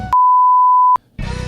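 A steady electronic phone-call alert beep sounds as one loud, sustained pure tone lasting nearly a second, cutting off abruptly before brief silence and returning background sound.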